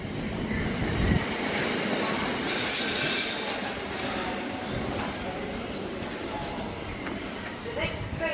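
A train rumbles loudly through Ealing Broadway station in London, its wheels grinding and briefly squealing, with a muffled platform announcement faintly audible underneath.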